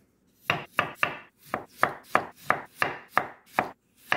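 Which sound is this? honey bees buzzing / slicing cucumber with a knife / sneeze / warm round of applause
slicing cucumber with a knife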